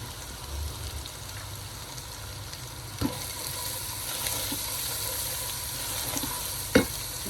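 Ginger garlic paste with salt, chilli and turmeric fries in a pan, giving a steady close sizzle with occasional spoon stirs and a couple of sharp taps against the cookware.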